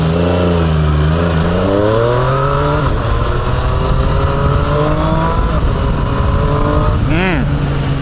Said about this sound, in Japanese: ひねればひねっただけ加速しますね、このバイク